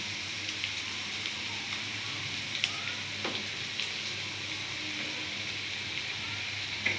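Street style egg noodles cook in a pan with a continuous, even sizzle and hiss, close and moderately loud, with a few faint clicks of a utensil.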